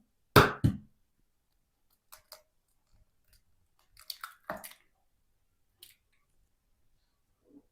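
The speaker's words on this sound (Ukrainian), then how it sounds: "Беру підходящу ємність, в якій зручно буде вбивати майбутній майонез. Вбиваю сюди яйце." An egg cracks sharply into a container for homemade mayonnaise, one crisp crack close up followed by faint small wet taps and drips, with no talk.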